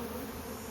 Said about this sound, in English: this does upset the bees